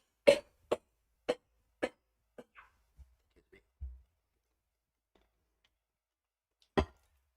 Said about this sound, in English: My coughing cut off a really awesome joke I was going to tell.